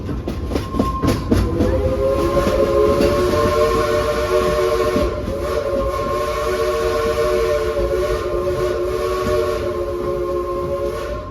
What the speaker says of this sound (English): Those whistles were for you.